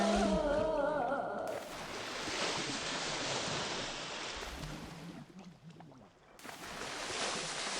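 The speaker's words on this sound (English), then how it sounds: "A stream of wastewater is filling the room." Wastewater rushes into a room in the video game Death Mark 2, a loud roaring surge that swells, dips briefly and returns, after a short tonal chime at the start.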